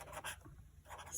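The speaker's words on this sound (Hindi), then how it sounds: "यहाँ पे लिखती हूँ" Chalk or a marker scratches briefly across a board in a few short strokes. The sound is faint and close, with quiet gaps between the strokes.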